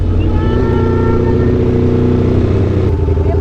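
A Ducati V4S motorcycle engine runs with a deep, steady rumble and faint revving on a ride, loud and continuous throughout.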